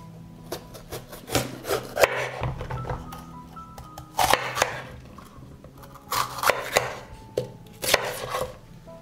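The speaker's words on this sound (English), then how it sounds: "I chop the pepper." A knife chopping a pepper on a board, with irregular clusters of sharp cuts and a few scraping strokes, close and clear with no talk.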